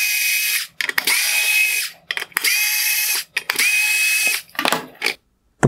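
T20 Torx screws come out of the LED drive unit of a 2020–2021 Mercedes-Benz CLA LED headlight under a small electric screwdriver, with several short bursts of high whirring, each followed by brief clicks and pauses, close and loud with no talk.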